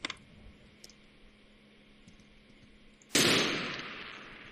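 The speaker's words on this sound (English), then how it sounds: "He's shooting at us!" A loud gun blast erupts in Garry's Mod after a few faint clicks, with a long, noisy tail trailing off behind the single shot.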